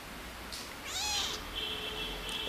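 Skinny, underweight kittens mew in short high-pitched calls, one clearer drawn-out meow in the middle and fainter cries around it, close by in a quiet room.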